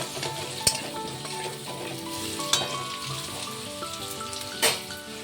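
Onion and spices frying with vegetables in a pan, a soft continuous sizzle with a few sharp clinks and stirring knocks of a utensil against the pan, close and fairly quiet.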